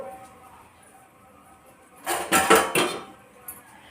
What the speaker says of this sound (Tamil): இதை மூடி வச்சு நல்லா மூடிடுவோம்